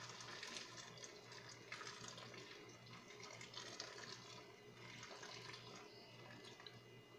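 Water pours steadily into a pot of rice being cooked for Filipino arroz caldo, a continuous splashing fill with no talk.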